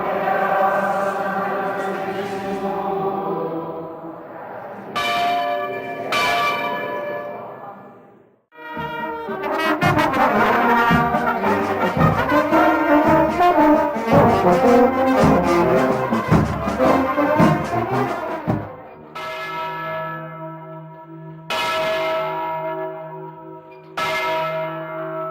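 Large church bells ringing in a historic Minas Gerais town during the Way of the Cross, loud resonant strikes with long ringing decay, a dense stretch of overlapping peals in the middle and isolated tolls at either end.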